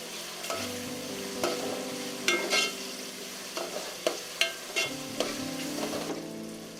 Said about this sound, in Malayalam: തക്കാളി, ഉള്ളി, ഇഞ്ചി, പച്ചമുളക്, ഏലപ്പല, പിന്നെ വെളുത്തുള്ളി ഇതെല്ലാം കൂടി എണ്ണയിൽ വാട്ടി വെക്കണം